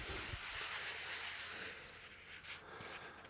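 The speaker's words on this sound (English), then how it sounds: "I'm going to sand the belly carve," Sandpaper rubbing over primer on a mahogany guitar body, a faint close hiss of quick back-and-forth strokes with a few soft knocks, and no talking.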